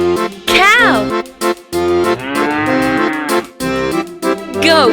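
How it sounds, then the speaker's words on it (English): Cow mooing in a few drawn-out calls with sliding pitch, loud and close, broken by short pauses. "Cow."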